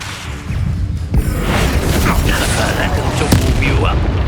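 A Confringo fire spell bursts in Hogwarts Legacy combat, a loud booming explosion with rushing, crackling fire noise that fills the clip after a brief quieter start, with a character's voice mixed in.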